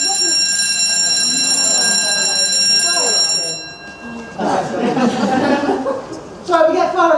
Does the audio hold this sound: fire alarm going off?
yes